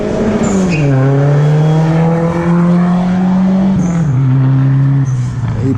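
Loud, close engine of a car fitted with a 345 Hemi V8 at a car meet, holding a steady throaty drone with a couple of pitch shifts and rev changes, continuous throughout.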